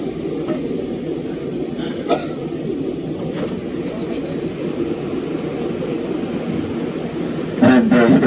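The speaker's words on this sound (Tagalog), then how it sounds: "Magsasarado na po ang pintuan ng tren." Inside a Manila metro train stopped at a station, a steady loud rumbling hum of the carriage fills the space, with faint clicks and a short chime-like tone near the end as the doors prepare to close.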